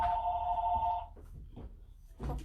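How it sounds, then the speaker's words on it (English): Store telephone ringing with a bright electronic trill for about a second, then stopping, followed by faint background clatter and a brief noise burst. "Of course my store phone is ringing."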